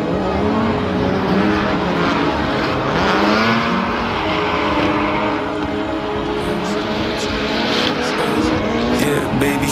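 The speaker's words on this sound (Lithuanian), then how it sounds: "Girdim, kaip mašino šeria." Cars drifting at a Matsuri drift event, a steady, loud wash of engine roar and tyre noise running continuously throughout, with layered revving tones and no clear pauses.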